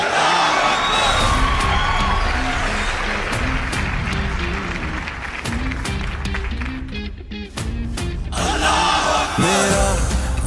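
An audience at a Pakistan Air Force Independence Day show on 14 August cheers, whoops and applauds to welcome a performer, a loud, sustained crowd roar that dips briefly before surging again.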